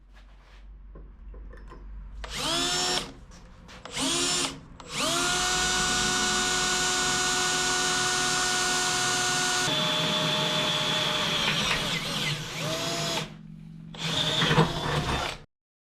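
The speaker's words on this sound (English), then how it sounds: "We'll drill a hole somewhere right around here" A power drill bores through metal angle, whining in long sustained bursts with brief pauses and restarts, loud and close, ending in a short final run before stopping.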